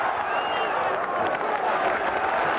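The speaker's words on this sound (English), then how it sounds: "So the Wigan crowd appreciating the play of their Wigan heroes." A Wigan rugby league crowd applauds their team during a match against Salford, a steady wash of distant clapping and crowd noise filling the short moment without break.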